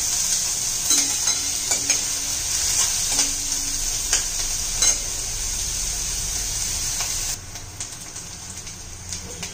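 Onions fry toward golden brown for a matki rassa, giving a continuous sizzle with scattered spoon-on-pan clinks; the frying drops noticeably quieter near the end.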